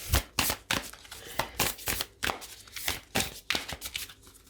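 Tarot cards are handled and drawn from a deck, giving a quick run of rustling, flicking bursts in an uneven rhythm, close and fairly clear with no talking.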